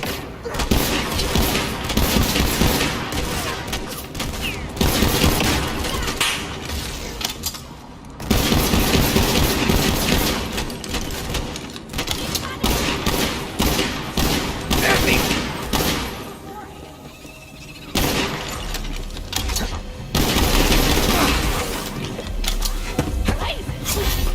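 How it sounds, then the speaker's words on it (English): Dense, continuous video-game gunfire in Borderlands 3, with rapid bursts and booming shots that rarely let up, loud and close, under a voice that speaks intermittently. "I shoot."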